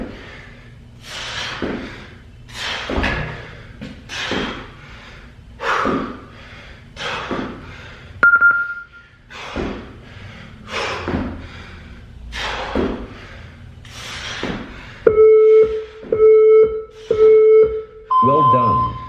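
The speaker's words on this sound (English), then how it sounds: "This next one's skier jumps. When you jump and land, slowly resist down." Repeated landing thuds from skier jumps in a no-equipment home workout, about a dozen dull impacts spaced roughly a second apart with breathy exhalations between them, followed by a few short electronic timer beeps.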